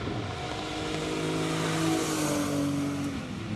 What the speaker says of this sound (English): Do love the look, feel and sound of the old 911s air-cooled.